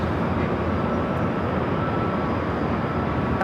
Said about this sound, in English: first arrival of the Southwest flight